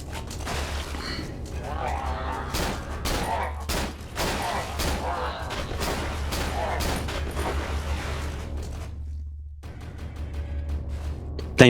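Gunfire in the horror game Cry of Fear, many loud close shots fired in quick irregular bursts for most of the clip, with someone talking over them and a brief lull near the end.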